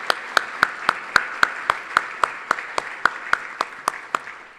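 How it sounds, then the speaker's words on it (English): Police department honorees at a State of the City event get a single person's sharp, evenly spaced claps, loud and alone, about sixteen crisp hits in steady rhythm with no crowd. "let's give another round of applause to our men and women of Mission Police Department."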